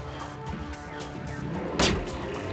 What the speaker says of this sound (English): my goal for tonight is to no-scope someone in the face with this sniper rifle